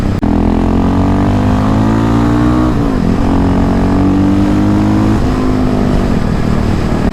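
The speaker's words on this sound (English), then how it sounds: "it's so nice to be able to come out of the corners and just get on the throttle" A dual-sport motorcycle, a KLX351 with a 5-speed gearbox, accelerating hard out of corners on twisty roads: loud, close engine drone rising in pitch, dipping briefly at gear changes, then climbing again under steady wind noise.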